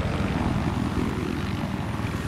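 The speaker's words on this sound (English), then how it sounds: "I'm in this other chopper." A helicopter in the Battlefield 3 video game makes a steady, loud rotor and engine drone that holds evenly throughout, alone with no talk.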